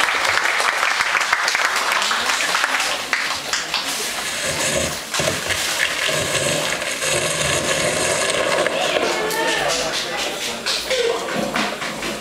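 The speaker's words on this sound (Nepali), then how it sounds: "ताली बजाएर उहाँहरूलाई स्वागत गर्छु" An audience at a Non-Resident Nepali Association event in Luxembourg claps in welcome. Dense, sustained applause fills the room, fairly loud and continuous, with some crowd murmur mixed in.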